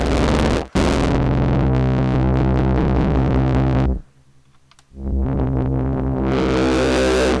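A harsh, distorted synthesizer with cross modulation and feedback drones with gritty, buzzing overtones, drops out for almost a second, then roars back just as loud and dirty.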